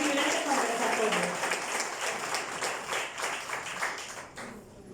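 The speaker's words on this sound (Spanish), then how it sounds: "vamos a dar también un aplauso a nuestros profes" Audience applause for the teachers at a health conference, steady crowd clapping from a moderate distance that gradually thins and fades, with a few voices underneath.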